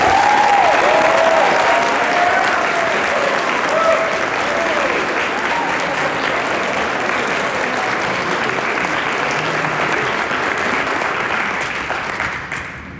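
Sustained audience applause at a Michigan Youth Challenge Academy awards banquet, a broad steady clapping from a full room that holds strong before fading out at the end.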